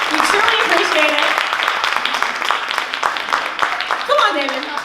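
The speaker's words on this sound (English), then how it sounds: "please, a round of applause for Mr. David Perry" A runway show audience claps in a continuous wash of applause while someone speaks over it close to the microphone.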